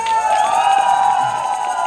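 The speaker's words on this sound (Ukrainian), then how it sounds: "Ще раз оплески." A crowd at a village Christmas carolling gathering and wedding cheers and applauds, a loud sustained roar with tonal whoops and shouted voices over it, continuous for the whole short stretch.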